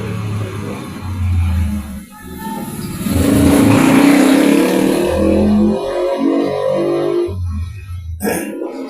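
A motorcycle passes on a street, its mid-pitched engine swelling loud and close, then fading as it moves away, with a brief sharp clatter near the end.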